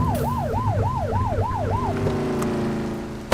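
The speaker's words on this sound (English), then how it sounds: "Get on their tail and flip the siren." A police car siren in a police officer video game sweeps in fast, repeated rising-and-falling wails for about two seconds, then settles into steady sustained tones over a constant engine rumble, loud and close with no talking.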